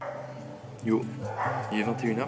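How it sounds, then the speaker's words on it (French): Several dogs bark and yip repeatedly in a neighbourhood in Rio de Janeiro at night, fairly close and loud, with a person talking over the barking. "il y a grave des chiens ici qui aboient tout le temps."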